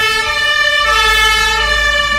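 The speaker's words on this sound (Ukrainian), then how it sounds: "Господи, що за сирени." A loud, steady siren wails with a sustained tone, joined by a low rumbling vehicle engine partway through.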